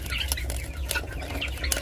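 Guinea fowl hen clucking close by, a few sharp repeated calls over a steady low farmyard rumble.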